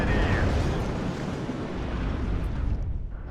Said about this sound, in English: Our artillery is relentless